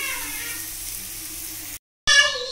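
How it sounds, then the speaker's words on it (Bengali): Egg bhujia frying in a pan, with a steady close sizzle that cuts out briefly and then returns brighter and louder, with no talk. "চলো ভুজিয়াটা ভেজে নিই।"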